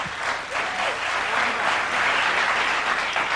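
A late-night TV talk show studio audience in 1989 breaks into loud, sustained applause: dense, steady clapping that fills the room without letup for the full stretch.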